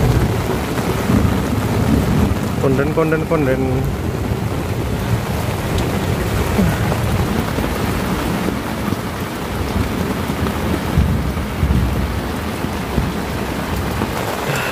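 Heavy rain pounds steadily on an old tent at a flooded campsite, a dense, continuous roar close by with low rumbles of thunder rolling underneath and no break throughout.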